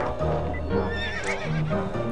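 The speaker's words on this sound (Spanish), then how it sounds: "¡No montar ese caballo!" Horse neighing and clip-clopping hooves from the video game To the Moon, a loud whinny over steady hoofbeats with game music underneath.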